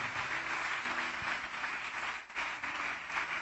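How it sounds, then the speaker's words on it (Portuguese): Congregation applauding steadily throughout a church service, a dense sustained wash of clapping with no clear pauses. "Vamos aplaudir o Senhor Jesus."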